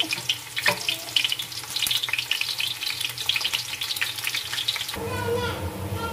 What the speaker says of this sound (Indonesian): Untuk bawang merahnya nggak saya blender, tapi saya tumis seperti ini sampai wangi.